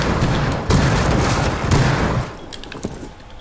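Dense gunfire in Rainbow Six Siege rattles in overlapping bursts with a few heavier booming shots, loud and busy for two seconds before thinning to scattered distant cracks.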